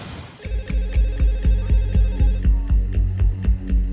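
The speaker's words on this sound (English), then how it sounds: "a late-night phone call wakes Dr. Bandari" A telephone bell rings late at night in a regular repeating pattern, loud and close, with no voices over it.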